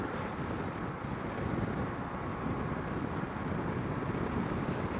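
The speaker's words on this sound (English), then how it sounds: "It's just kind of windy today, I guess, and it couldn't possibly be because the windshield's funneling the air into my face." Wind roars steadily into an open vehicle cruising along, with a windshield funneling air at the driver, a continuous close buffeting rush across the microphone with no talk.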